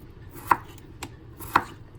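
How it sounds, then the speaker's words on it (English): A knife chops through potatoes, onions and bell pepper on a cutting board, three crisp thuds spaced about half a second apart. "So let's finish up chopping"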